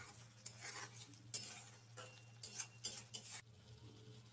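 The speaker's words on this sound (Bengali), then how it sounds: "এরকম করে হালকা হালকা করে নাড়িয়ে নিতে হবে" Light stirring of a Bengali-style aloo korma of potatoes in a pan, with repeated spoon scrapes and clinks against the metal over a low background hum.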